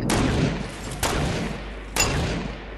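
Three sharp sniper rifle shots ring out about a second apart in Fortnite, each a loud crack with a brief echoing tail.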